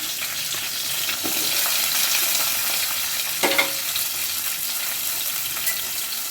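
Ginger, tamarind and onion pieces fry in a pan with a steady sizzle, broken by occasional stirring clinks and a sharper scrape partway through.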